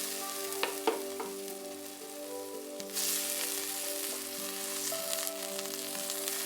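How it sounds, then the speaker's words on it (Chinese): Fresh peas being stir-fried in a wok, with a steady close sizzle, scraping stir strokes and a few sharp clinks of the spatula against the pan, the frying growing louder partway through. "再稍微翻炒一下"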